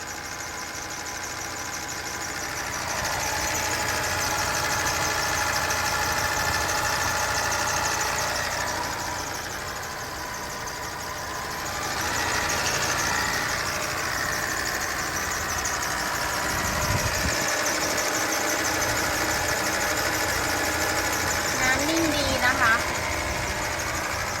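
A 1992 Toyota sedan's 1.6-litre 4A engine idles smoothly and quietly in the background while someone talks over it.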